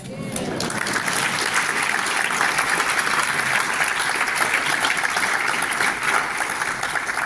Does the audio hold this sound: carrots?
no